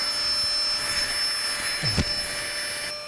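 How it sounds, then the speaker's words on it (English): A small Flextail portable air pump runs at a campsite in Iceland, giving a steady high whine with a thin motor hum, close and continuous, with a brief bump near the end. "So I've got this little flex tail air pump."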